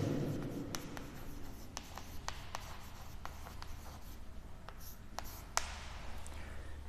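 Wet rough polishing of a metallurgical sample on emery paper, a steady scraping rub with repeated sharp strokes and ticks in an even rhythm, close and fairly quiet.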